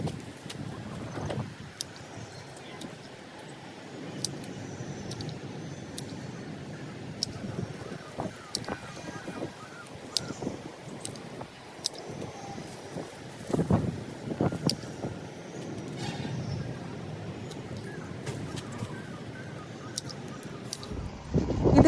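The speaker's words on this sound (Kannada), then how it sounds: "ತುಂಬ ಗಾಳಿ ಬೀಸ್ತಾ ಇದೆ" Strong gusty wind buffets an open terrace garden before rain, rumbling against the microphone in uneven bursts, with rustles and faint knocks throughout.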